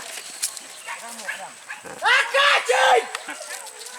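A red dog barks several times during a wild boar hunt in Solok, a few sharp yaps clustered near the middle, with people talking and background chatter around them.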